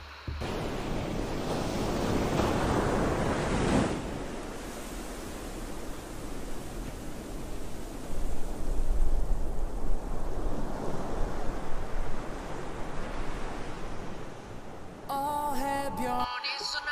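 Steady broadband rush of ocean waves washing ashore, loud and continuous with a few surging swells, ending with a brief burst of music.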